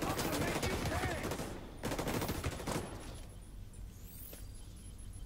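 Rapid automatic gunfire rattles in dense bursts through a video game firefight, pauses, resumes, then trails off into quieter game ambience with a faint later blast.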